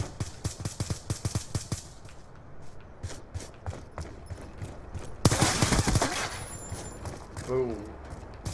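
Gunfire in Black Ops II, a rapid string of sharp shots early on, then a louder burst mid-way, mixed with a player talking over game sounds.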